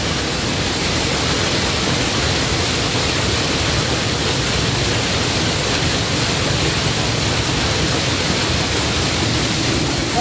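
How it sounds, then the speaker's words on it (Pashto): Floodwater rushes down from the mountains after heavy rain in Balochistan, a constant loud, hissing roar with no break and no voices. "د غرو په خوا شاید اخوا د ډېر باران شوي دي خو اوبه دا ټیم را روانې دي."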